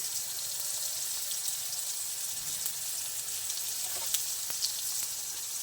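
Spice masala of turmeric, Kashmiri chili powder, salt and sugar frying in a pan for an okra dish, a steady close sizzle running throughout with a few small crackles and pops.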